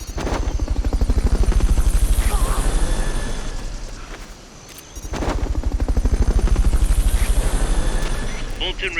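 Helicopter in the video game Metal Gear Solid Peace Walker, loud rapid rotor chop pulsing steadily, swelling, dipping briefly, then returning with sharp bursts mixed in.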